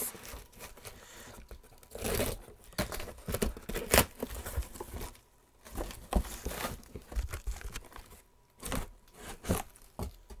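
Cardboard shipping box being opened and plastic wrapping torn away from a packed Motorola MDT 9100-386 terminal, with close crinkling, ripping and scraping in irregular bursts throughout.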